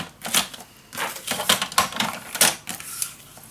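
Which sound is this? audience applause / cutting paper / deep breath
cutting paper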